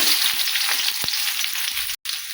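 Onions frying in hot oil in a kadai, a bright steady sizzle up close with a few stirring knocks, cutting out briefly near the end.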